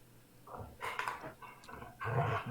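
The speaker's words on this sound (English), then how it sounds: "what kind of dog do you have? Golden Retriever." A Golden Retriever pants close by in quick, uneven bursts of breathy huffs, with a louder rush of breathing near the end and no talking over it.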